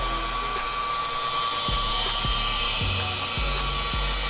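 A rotary polisher fitted with a jeweling pad, polishing car paint, gives a steady high mechanical whine with soft rhythmic thumps repeating about every half second.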